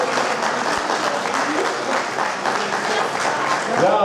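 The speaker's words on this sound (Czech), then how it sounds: "zatleskejte jí pořádně." An audience at a magic competition gives steady, dense applause, a continuous wash of many hands clapping at even loudness throughout, with faint voices mixed in.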